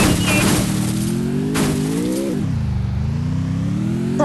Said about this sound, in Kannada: ಗಾಯ್ಸ್ ಇದ್ರಲ್ಲಿ ಹೆಂಗೆಂಗೋ ಬರ್ತಿದೆ ಸೌಂಡ್ ಅಂತ ತಿಳ್ಕೊಬೇಡಿ ಕಾರ್ದು.